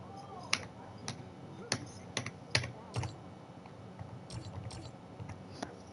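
Irregular clicks and clacks of a computer keyboard being typed on, close and fairly crisp, in uneven bursts over a low background hum, with no speech.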